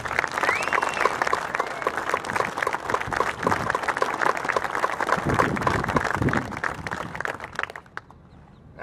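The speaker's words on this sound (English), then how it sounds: "I would like to ask for a round of applause for the mechanics and the welders of Bath Iron Works" An audience at a ship decommissioning ceremony applauds the Bath Iron Works mechanics and welders, sustained dense clapping from a large crowd that carries on for several seconds before fading out.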